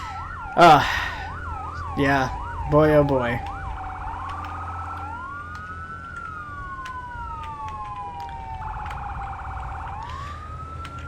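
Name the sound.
fire engine siren in the video game Firefighting Simulator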